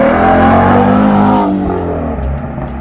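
A 2025 Ford Maverick Lobo pickup truck accelerating hard: a loud, close engine roar with a strong tonal drone that holds steady, then drops in pitch and eases off.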